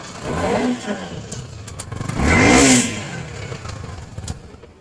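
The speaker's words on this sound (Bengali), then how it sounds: "ইঞ্জিনের সাউন্ড শুনতে পাচ্ছেন" A Suzuki Gixxer SF 250 motorcycle engine idles, gets one short blip, and then gives a longer, louder rev that rises and falls before settling back to a rough idle close by.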